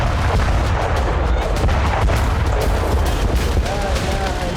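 A gas tanker explosion in Aden, Yemen, heard as a dense, continuous roar of blasts and booming rumble with sharp cracks throughout, loud and chaotic, with voices faintly mixed in.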